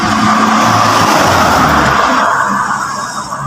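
Roadside traffic, a loud car rushing close past with tire noise, then the roar fading as it moves away, leaving quieter road hum by the end.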